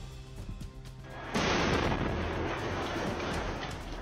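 Artillery fire in the battle for Bakhmut, where a Russian artillery brigade fought a Ukrainian tank regiment: a low distant rumble breaks into one sudden loud blast, followed by a sustained roaring, crackling rumble.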